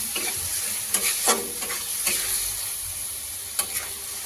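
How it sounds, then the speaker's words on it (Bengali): Ground cumin, coriander, chilli powder and salt fry in a pan for a boal fish curry, with a constant soft sizzle and repeated spatula scrapes and taps close by, no talking. "2 মিনিট মশলাগুলো ভাজবো"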